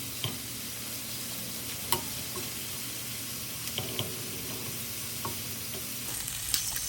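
Shrimp sizzle steadily in a hot pan for a creamy chipotle pasta, a dense continuous frying hiss broken by a few sharp clicks and taps as pieces are flipped, with no talking.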